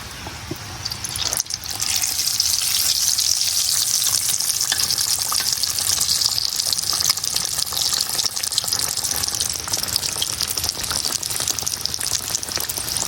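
Mughlai paratha frying in oil in a kadai gives a loud, steady sizzling hiss that starts after a short quieter moment and runs on without a break, with no voices.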